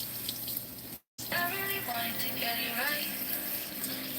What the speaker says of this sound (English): Now I'm going to rinse it again.